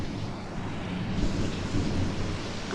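Outdoor rain pours steadily with a low, continuous thunder rumble underneath, a dense wash of sound that swells slightly midway and holds with no voices.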